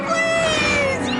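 Cats meowing in a cartoon episode depicting body horror, with overlapping sustained, wavering meows layered together, loud and close, over an eerie piano music background.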